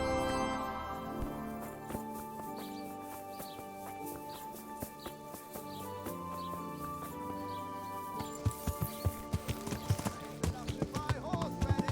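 Horse hooves clip-clop in the medieval game Kingdom Come: Deliverance, a steady trotting rhythm under a layered musical and ambient bed, growing more distinct and punchy toward the end.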